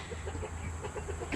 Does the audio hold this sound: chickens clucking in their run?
yes